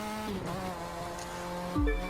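A Mazda RX-7 FD races in The Crew 2 with a steady droning engine note and faint tire squeal, then a sharp gear change lowers the pitch near the end.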